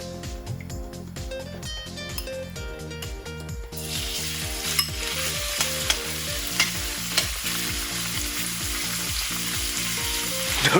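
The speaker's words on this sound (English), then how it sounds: "Don't you just love the sound of the sizzle?" Chicken browns in rapeseed oil for a homemade restaurant-style curry, giving a loud, steady sizzle and crackle that swells after a few seconds, mixed with a repeating rhythmic pulse and occasional clinks of stirring.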